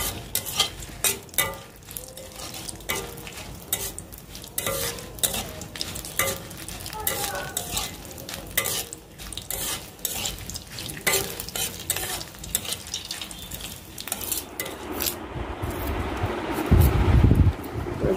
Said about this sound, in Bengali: তো যে মরিচটা আগে তেল দিয়ে বেশ একটু লাল লাল করে কড়া করে ভাজবো, মশমশা করে